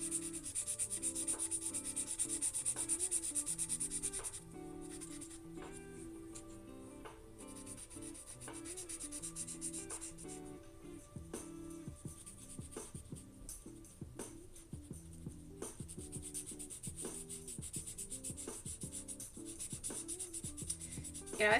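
Acrylic markers drawing on paper make soft, close scratching and rubbing strokes in an uneven rhythm, quiet throughout, over a faint tonal background.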